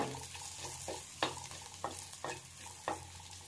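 Capsicum, onion and fried cauliflower stir-fried for home-style chili gobi, with a steady sizzle in the pan and several sharp scraping clatters of the spatula spaced roughly half a second apart, close and clear with no talk.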